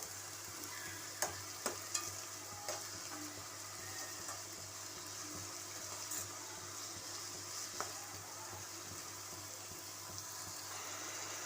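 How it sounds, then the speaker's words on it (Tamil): Chopped onions sauté in hot oil for a prawn thokku, a faint continuous sizzle under low background hum, with a few scattered clicks and taps of a spoon against the pan. "இப்போ நம்ம சாப் பண்ணி வச்சுருக்க வெங்காயத்தை போட்டுடலாம். வெங்காயம் நல்லா வதங்கணும்"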